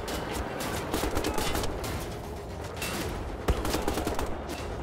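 Sustained gunfire in Wolfenstein: The Old Blood: dense, rapid bursts of shots that crackle almost continuously, loud and close, with one sharper crack standing out near the end.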